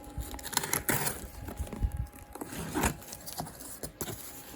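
A cardboard box delivered by UPS is opened close up, with irregular bursts of crinkling, tearing and rattling packaging and no speech.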